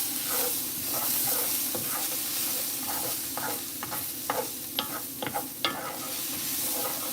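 Onions cooking down to a jammy softness in an oiled pan sizzle steadily at close range, with a run of spatula scrapes and taps toward the end and no talking.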